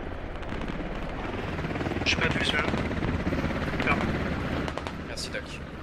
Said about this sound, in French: Hélico ennemi en approche à l'est.